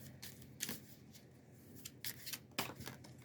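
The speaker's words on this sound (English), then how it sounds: "I should shuffle them just so you can see how they shuffle." A deck of cards being shuffled up close, with several crisp riffling bursts separated by short pauses, fairly quiet and with no talking.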